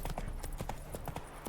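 The horse Roach galloping in The Witcher 3, with quick, rhythmic clip-clop hoofbeats that fall repeatedly and evenly, heard close up and alone.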